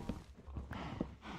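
A horse walking in the Minecraft video game makes soft, faint clip-clop hoof steps at an uneven pace, heard alone and quietly in the background.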